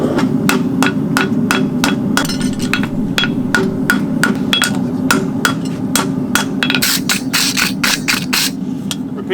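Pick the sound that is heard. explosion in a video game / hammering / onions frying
hammering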